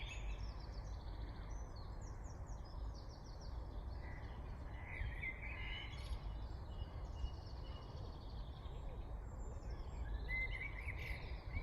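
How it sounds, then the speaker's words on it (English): A British blackbird sings mellow, fluting phrases that come and go, fairly faint and somewhat distant over a steady low background hum, with no talking. "Must have one of the most mellow songs of any British bird."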